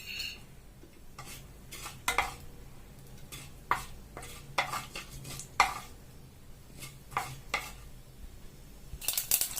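Mustard seeds splutter in hot oil for a traditional pappu, popping in sharp, irregular cracks against a faint background hiss, heard close up with no voices.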